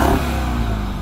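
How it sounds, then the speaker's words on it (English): A V8 engine in an American pickup truck revs hard, a loud, continuous rough roar held at high pitch throughout the brief moment, with no talk. "Would you like to cause some noise and exhaust pollution by revving up your V8?"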